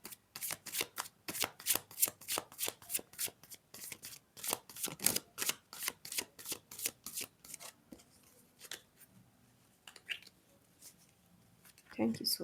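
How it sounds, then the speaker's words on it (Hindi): Tarot cards shuffled quickly by hand in a steady series of crisp riffling bursts, close up, then slowing into softer handling and arranging. A voice speaks faintly near the end. "कार्ड्स को हम अरेंज करेंगे फिर"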